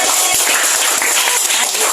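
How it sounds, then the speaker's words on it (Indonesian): Classroom applause for a student group, a dense loud patter of many hands clapping at once, close and sustained throughout with faint voices mixed in. "Kurang meriah tepuk tangannya."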